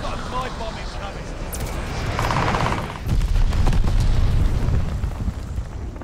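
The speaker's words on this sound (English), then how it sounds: "Enemy's got a glide bomb incoming." A glide bomb explodes in the Call of Duty Vanguard video game, a heavy boom and rumble swelling midway and holding under game noise while players talk over it.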